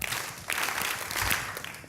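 Audience clapping at a talk event, a steady broad wash of many hands swelling after a brief dip, filling the space with no voices on top.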